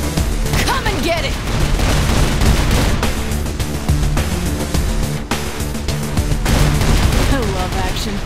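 Gunfire rattles continuously in the Saints Row IV video game, loud and dense, in rapid bursts mixed with other action noise and some talk.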